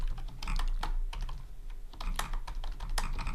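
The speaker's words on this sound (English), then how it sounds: "I can just type in something" Typing on a computer keyboard while writing code, with bursts of quick key clicks separated by short pauses, close and fairly loud over a steady low hum.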